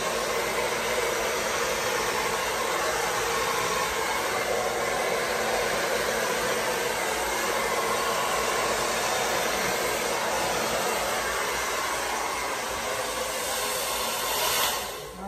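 A hair dryer blows steadily over a wet Dutch pour acrylic painting, producing a loud, continuous airy roar with no talking, easing off only at the very end.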